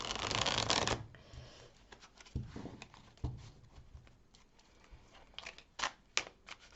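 A tarot deck is shuffled and cut on a table: a dense riffle at the start, then soft scattered card slaps and sliding flicks, close and quiet, with no talking.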